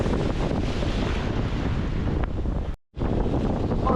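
Surf and strong wind on a beach at Liverpool, UK, a steady loud broadband roar with wind buffeting the microphone, cut by a brief silent dropout near the end.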